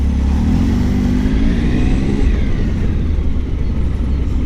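Triumph Tiger Sport 1050 motorcycle riding through traffic near roadworks, its engine a steady loud low rumble with a rising rev tone, heavy wind noise throughout and no talk.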